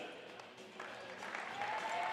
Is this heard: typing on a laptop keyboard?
no